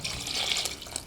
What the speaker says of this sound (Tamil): அரை குண்டா ஊற்றுறோம்